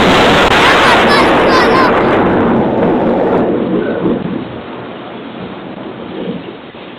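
A thunderstorm with a loud, close crack and long rolling rumble of thunder over steady rain, fading gradually into quieter rainfall.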